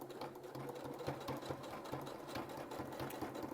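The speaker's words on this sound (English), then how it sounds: "I like to start up at the tie, and I have my stretch stitch, so I don't need to worry about reversing" A sewing machine stitching a pleated fabric face mask on a stretch stitch, a fast, steady mechanical whirring chatter with rapid rhythmic needle pulses, close and continuous.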